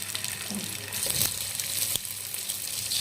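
Whole eggs fry in a pan of hot oil, a moderate crackling sizzle with a couple of sharp clicks, continuous and fairly close over the short stretch.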